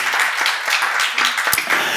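A church seminar audience breaks into applause, a dense, fairly loud patter of many hands clapping at a steady level, with a brief louder knock near the end.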